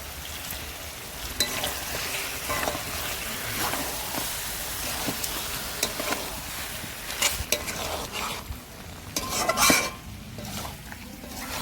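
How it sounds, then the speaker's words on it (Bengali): Chicken curry masala with tomato paste and spiced water sizzles and fries in a pan while a utensil stirs and scrapes against the metal, a close, continuous crackle with scattered clinks. "টমেটো বাটা দিয়ে দিচ্ছি মশলার জলটা দিয়ে দিচ্ছি"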